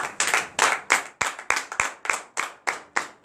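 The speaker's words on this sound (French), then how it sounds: "Je vous demande d'applaudir très très fort." A congregation at a morning prayer service in Benin claps loudly in unison, about a dozen sharp, evenly spaced claps at a quick steady beat, close and clear with no talking.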